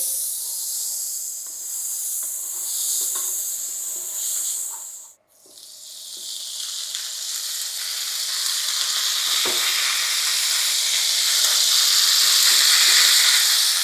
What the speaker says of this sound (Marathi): आपल्याला हे पनीर टिक्काना तेल आणि बटर दोन्ही टाकून जरा फ्राय करायचं